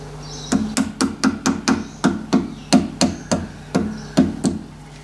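A hammer taps sheet metal down onto a hammer form for a diesel foundry furnace burner, about sixteen sharp, ringing strikes in quick, uneven clusters, close and loud, with no talk.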